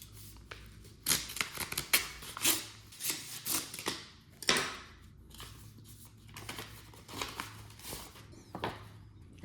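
A paper envelope holding a Wells Fargo Attune credit card being torn and opened by hand, close crinkling and ripping bursts in an irregular rhythm, fairly quiet and alone.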